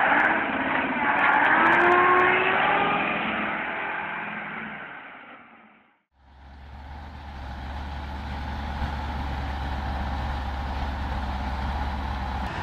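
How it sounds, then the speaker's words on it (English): A heavy Ural 4320 military truck engine drones and labors off-road in mud, its rumble shifting after a brief drop, then settling into a steady low growl as the vehicle pushes on. "Military vehicle Ural 4320 overcoming mud off-road."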